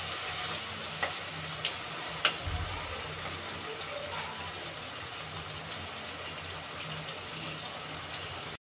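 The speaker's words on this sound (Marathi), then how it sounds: "टोमॅटो पण छान तेलामध्ये फ्राय झालेला आहे बघा." Two tomatoes frying in oil in a home kitchen pan, a steady soft sizzle with a few sharp ticks and pops near the start, close and fairly quiet.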